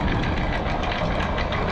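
Sailboat engines running on board with little wind, a steady broadband rumble and churn held at an even level throughout, with no talk over it.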